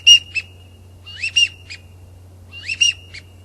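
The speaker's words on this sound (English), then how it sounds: "So you use the same pintail call that you can use on your pintails as you use on your widgeon" A pintail duck call blown as a widgeon call gives repeated two-note whistles in three short bursts, each a rising whistle followed by a quick second note. The whistles sound clear and close over a low steady hum, with no talking.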